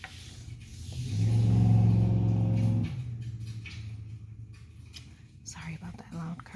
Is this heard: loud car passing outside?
yes